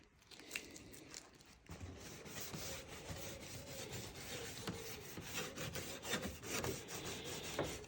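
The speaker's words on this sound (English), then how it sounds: "I'm just using this bristle brush to feed into all the little crevices." A bristle brush works beeswax over a wooden rolltop desk and into its small crevices, giving a steady close scratchy rubbing and scrubbing that runs continuously at a low level with no voices.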